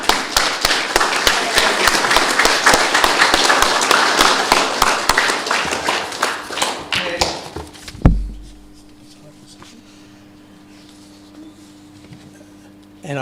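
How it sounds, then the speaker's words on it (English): Audience applause at a Progressive Christianity Forum 2024 launch event, a dense, loud burst of many hands clapping that carries on for about eight seconds, then cuts off to a quiet room with a low hum. "I think we give our applause to the launch of 2024"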